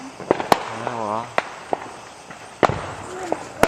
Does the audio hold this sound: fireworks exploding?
yes